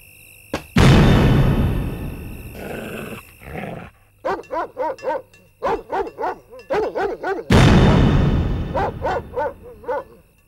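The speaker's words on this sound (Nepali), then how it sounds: "आज कुकुर किन भुक्यो" A dog barks repeatedly at a house, the sharp loud barks coming in quick uneven bursts, with short stretches of louder broadband noise and voices before and after the run of barks.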